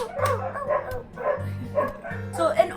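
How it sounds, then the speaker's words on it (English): Several dogs bark and yip in short repeated bursts, fairly close, with a person talking over them throughout. "Oh my gosh, the dogs!"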